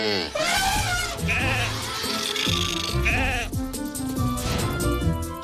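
Sheep bleat repeatedly in wavering, quavering cries, overlapping one another and fairly loud, with no talking.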